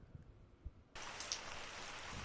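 Steady rain begins abruptly after a quiet stretch, a dense, even hiss of falling drops that continues at a constant level to the end.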